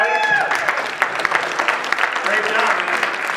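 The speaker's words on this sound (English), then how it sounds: "give Ricky a round of applause, everybody" Audience applause for a volunteer named Ricky at a live show, a dense steady patter of clapping throughout, fairly loud and close, with voices mixed in under it.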